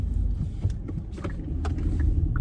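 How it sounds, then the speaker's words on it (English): A car on a road during a storm, a steady low engine rumble and road noise heard up close from inside a moving vehicle, with faint clicks and knocks on top. "What is this car doing?"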